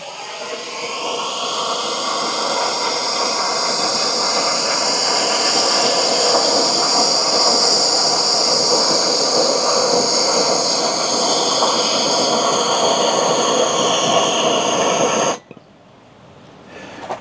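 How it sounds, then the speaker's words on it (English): A Bernzomatic TS-8000 propane torch burns with a steady, loud roaring hiss, close and unbroken for about fifteen seconds before cutting off abruptly. "I just got this Benzomatic TS-8000, really nice torch"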